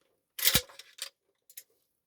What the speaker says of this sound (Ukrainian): Відокремити затворну раму з затвором.